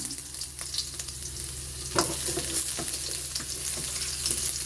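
Minced garlic sizzles and crackles steadily in hot oil in a pan, a close, continuous frying hiss with a few brief sharper pops and stirring scrapes, no voices over it.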